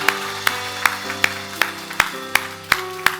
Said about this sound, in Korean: 감사와 영광의 박수 하나님 앞에 올려드리겠습니다